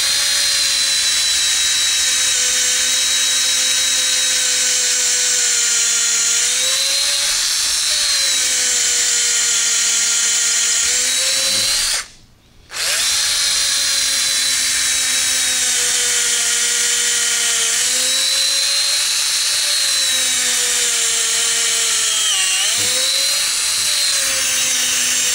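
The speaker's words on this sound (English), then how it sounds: "the first thing I'm going to do is drill this old handle out" A power drill bores out an old axe handle in a long, loud, steady whine whose pitch rises and dips as the load changes. It stops briefly once partway through, then starts again.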